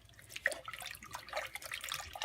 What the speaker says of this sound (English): I've already put it in my pot, and I'd already started to rinse it, but I'm going to do it again